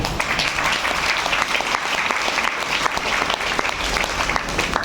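Audience applause at a DXN business success talk in India: continuous, dense clapping from a large crowd, loud and even from start to finish.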